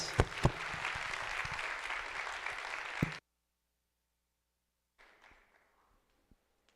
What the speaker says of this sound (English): Let's give them a welcoming hand